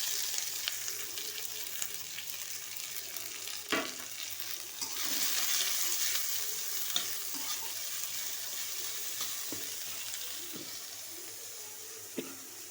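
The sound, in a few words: chopped onion, chili and black cumin frying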